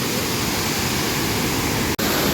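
Water rushes steadily down a waterfall at Nelliyampathy on a rain-soaked forest road, a dense, continuous roar filling the scene, broken only by a momentary dropout near the end.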